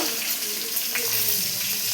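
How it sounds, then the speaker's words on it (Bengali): Salted potato pieces fry in oil with a dense, even sizzle, close and steady for a couple of seconds with no pauses. "ভালো করে লাল লাল করে ভেজে নেব আলু"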